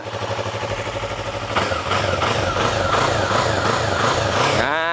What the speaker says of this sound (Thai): เรามาซัดเครื่องกัน ซัดทีเดียวอยู่เลยนะ